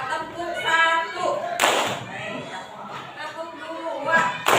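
A class of elementary school children at SDN Ciptakarya in Bandung doing a counted clapping routine: a few scattered claps and one louder burst of hands, mixed with voices talking and chanting.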